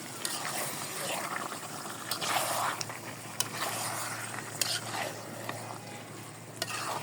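Duck curry with tomato cooks in a pan, stirred slowly as it browns; a steady sizzle runs throughout with occasional scraping clicks of the spoon, moderately close.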